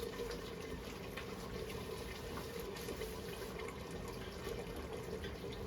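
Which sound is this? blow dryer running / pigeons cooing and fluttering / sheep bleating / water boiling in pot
water boiling in pot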